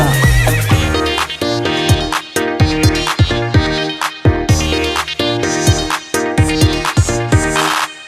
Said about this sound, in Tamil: கட கட குடுவன குதிரை வந்துச்சு